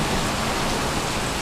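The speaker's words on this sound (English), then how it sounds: "It's freaking pouring down rain right on my stoop here." Heavy rain pours down onto a stoop in Texas, a loud, continuous roar of drops spattering close by with no voices.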